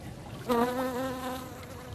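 A bee buzzes close by among flowers in a show garden, a brief near drone with a clear rising hum that steadies and continues over soft outdoor background.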